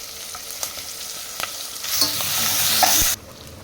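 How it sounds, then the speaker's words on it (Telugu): Cucumber pieces and curry leaves frying with onions in oil for a Telangana cucumber dal rasam, a steady sizzle with stirring scrapes that swells louder near the end and then cuts off abruptly. "ఆనియన్ ఫ్రై అయిన తర్వాత దోసకాయ ముక్కలు వేస్తాను కరివేపాకు దోసకాయ ముక్కలు"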